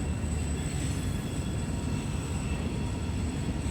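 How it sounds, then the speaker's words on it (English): An Indiana Rail Road train backs slowly onto CSX track, making a steady, continuous rumble of rolling railcars with a faint high whine above it and no talking. "the backing move winds down as they get that train fully into the CSX track"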